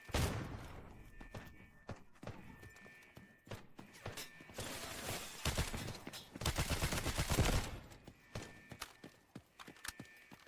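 Gunfire in the Delta Force shooter game, scattered sharp shots and rapid bursts mixed with mechanical clatter, swelling into a dense volley midway before thinning out again.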